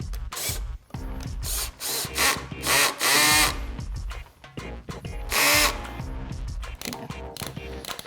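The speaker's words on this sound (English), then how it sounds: "He has an adapter to do angled mortises with the handheld mortiser" Handheld mortiser on an angle adapter cutting mortises in wood: loud, close bursts of high-speed motor whine and chattering cutting start and stop repeatedly, swelling in surges and dropping back between cuts, with no voices.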